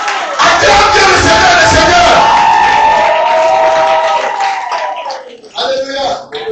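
A church congregation loudly acclaims and praises God, with a dense wall of shouting and cheering voices that rises suddenly, holds, then fades, before a short second burst near the end.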